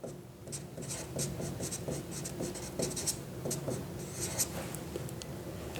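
Pen or marker scratching out a chemical structure in quick strokes, a steady run of short scribbles close up with no talking.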